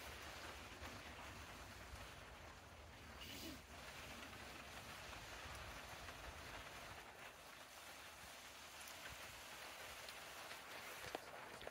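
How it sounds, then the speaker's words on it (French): Rain falls steadily outdoors in the Verdon area, a faint, even hiss of drops on surfaces with no voices, continuous throughout. "ça commence à bien pleuvoir dehors"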